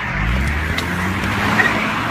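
A car speeds off with skidding, squealing tires, a loud engine roar and tire screech sustained over the whole moment, close by.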